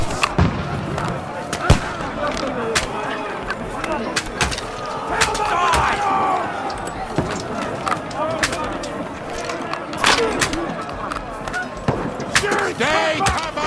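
Scattered gunfire and sharp impact cracks ring out through a chaotic medieval battle in Kingdom Come: Deliverance 2, repeated bangs over a continuous din of shouting soldiers and clashing noise.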